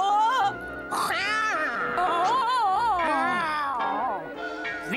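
A cartoon cat meows and caterwauls in long, wavering, whining cries that rise and fall, loud and close, with a few short yowls in between.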